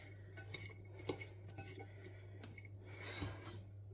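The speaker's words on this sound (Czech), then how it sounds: "promíchám si to maso s tou cibulí" A spoon stirring diced meat with onion in a pan, with repeated scraping, clinks and soft squishing over a steady low kitchen hum, fairly quiet and close.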